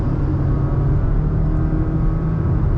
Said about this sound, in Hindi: मैंने दोबारा थ्रॉटल हाफ प्रेस किया